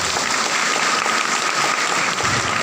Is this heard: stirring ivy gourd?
no